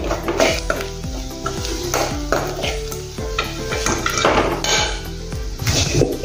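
A spoon stirs turmeric, red chilli powder and garam masala into a dish in a metal pot, giving a run of close clinks and scrapes against the pan over a faint fry, with a low hum beneath and no talking.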